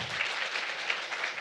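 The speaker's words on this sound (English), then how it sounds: "can we please just get one more round of applause for Yalie?" An audience applauds a poet after a poetry reading, a dense, steady wash of many hands clapping at moderate loudness with no gaps.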